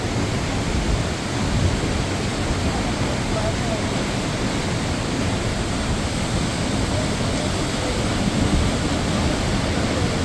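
Yongchu waterfall in Juwang Valley, Juwangsan, a steady broadband roar of falling water filling the whole stretch without pause, close and even.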